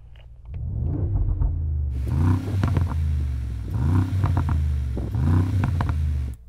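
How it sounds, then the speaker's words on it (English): A Mercedes-AMG G63 SUV with a sports exhaust roars loud and deep through several sharp revs in a row, each burst crackling and booming up close before dropping back to a rumbling idle. "Yianni's also fitted a sports exhaust."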